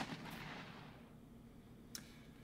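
A tank gun firing in the Armoured Commander II video game: a single faint, distant boom that fades out slowly, with a short sharp crack near the end.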